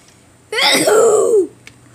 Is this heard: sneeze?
yes